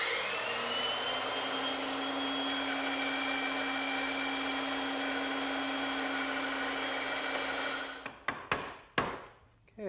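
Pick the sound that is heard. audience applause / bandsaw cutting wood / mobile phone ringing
bandsaw cutting wood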